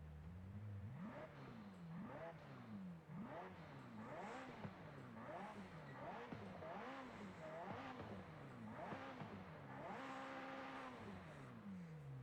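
A British sports car engine in Forza Horizon 5 revs hard and repeatedly, pitch climbing and dropping through quick gear shifts, loud and continuous, with a synthetic game-like quality.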